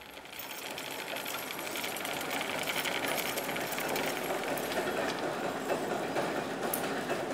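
Machine winding yarn onto spools in a workshop making red carpet: a steady, fairly loud rattling, whirring mechanical clatter with a fast, even rhythm, continuing unchanged with no talk.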